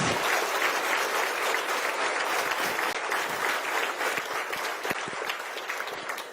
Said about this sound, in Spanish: es merecido de un fuertísimo aplauso que le den al Rey de Reyes y Señor de los Señores.